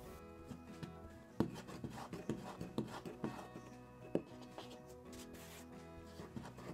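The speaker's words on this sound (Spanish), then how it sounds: "fijaos cómo la estiro para que quede bien redonda. También debéis poner un poco de harina en el rodillo." Floured rolling pin pressing and rolling lavash dough into a round on a floured table, soft close rubbing strokes with light irregular knocks.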